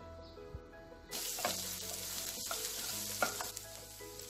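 Crushed garlic frying in a pan for a Telangana bankoti greens curry, starting quietly with faint clinks and then breaking into a loud, steady sizzle with occasional stirring scrapes, close by, no talk.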